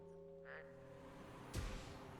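Faint frog croaks in Hades II, a soft croak early on then a sharper burst near the end, over a quiet tonal game ambience with no talk.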